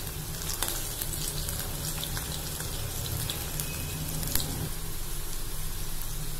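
Cauliflower 65 pieces deep-fry in hot oil with a steady, dense sizzle and crackle from start to finish, plus a few louder pops. No one speaks.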